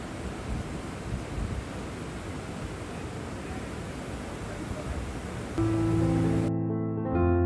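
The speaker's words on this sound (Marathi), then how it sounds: "आणि मागे पाण्याचा बॅकग्राऊंडचा तुम्ही आवाज ऐकू शकता." Water rushes hard through the Nagzari dam barrage near Latur after heavy rainfall, a continuous broad roar that gives way to music in the final seconds.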